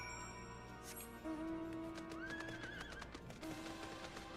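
Fire horse mounts in Final Fantasy XIV whinny with rising, wavering calls, several neighs over a quiet game backdrop with faint hoof clops.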